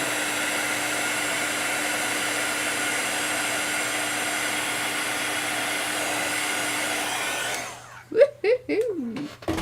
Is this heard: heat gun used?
yes